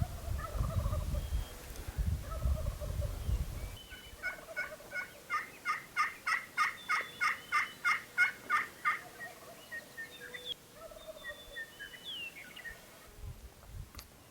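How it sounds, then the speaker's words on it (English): Wild turkeys gobble on a Nebraska morning: a fast, rhythmic burst of rattling gobbles rings out at moderate distance, with fainter calls and insect-like buzzing around it and a low rumble at the start. "Unbelievable amount of gobbles we heard this morning."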